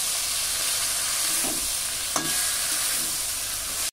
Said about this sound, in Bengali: মুচা দিয়ে খুব ভালো করে নেড়ে নেব।